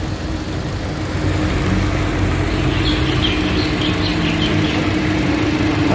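A new car's engine idles with the air conditioning switched on, a steady, loud, even drone with a faint high hiss and no break for the whole stretch.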